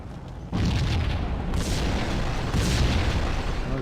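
A loud, sustained explosion roars after explosives are shot in the Max Payne video game, with a dense, rumbling blast and renewed surges of debris that follow one another without pause.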